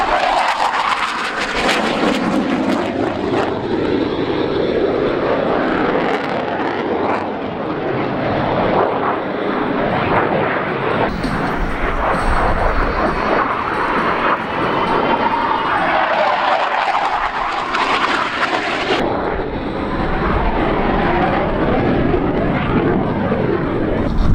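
A Royal Australian Air Force BAE Hawk 127 jet performs a maximum-performance aerobatic turn at the Avalon Airshow, its loud, continuous engine roar swelling and fading as it passes overhead, with no talk.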